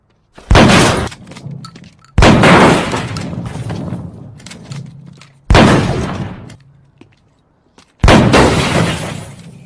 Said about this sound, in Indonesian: karena tembakan Moss ini, sepertinya Anton mengalami luka